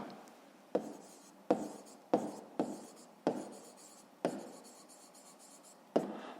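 Pen strokes on notebook paper while writing out a fifth-grade maths answer, a series of about seven crisp taps and short scratching strokes at irregular intervals, close and fairly quiet, with no talking.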